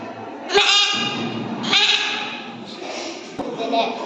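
A young voice mimics a goat with two or three shaky, nasal bleats, close and fairly loud, with soft thumps between them.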